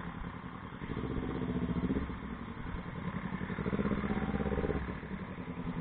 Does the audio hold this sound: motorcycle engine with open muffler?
yes